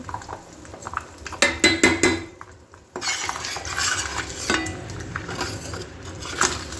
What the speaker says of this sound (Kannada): ಇನ್ನು ಮೊಟ್ಟೆನ ನೀಟಾಗಿ ಸ್ಕ್ರ್ಯಾಚ್ ಮಾಡ್ತೀನಿ.